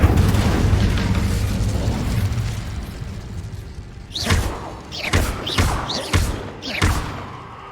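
A spell blast in the video game Hogwarts Legacy, several sharp whooshing bursts with thumps in quick succession, loud and close after a rumbling lead-in.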